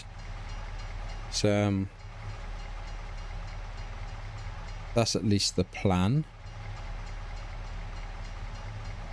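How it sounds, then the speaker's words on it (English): A train passing in the video game Farming Simulator 25, heard as a continuous low rumble beneath someone talking in two short bursts. "Come on, the train's gone."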